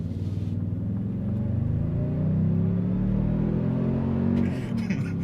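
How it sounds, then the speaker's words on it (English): A deep, throaty V6 exhaust of a 2023 Toyota Sequoia TRD Pro SUV rumbles and revs up, swelling louder in the middle before easing back, heard close with no talking. "This V6 puts out a throaty sound."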